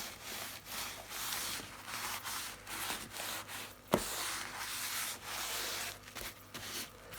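Chalk rubbed lightly over a wooden box makes soft, steady scraping strokes in a close, quiet rhythm, with one sharper knock partway through.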